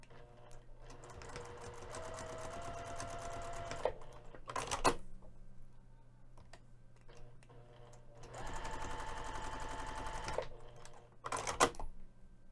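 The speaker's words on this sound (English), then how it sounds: "We're going to top stitch both of the finished long edges using 1/8 inch seam allowance" A sewing machine topstitches the long edges of a bag strap at a 3 mm stitch length, running in two steady bursts separated by a pause, with sharp clicks and handling noises between runs.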